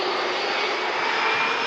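Steady, loud roar of an airliner engine on a 36-year-old airframe at Manchester Airport, a continuous broadband wash held evenly throughout with no voices.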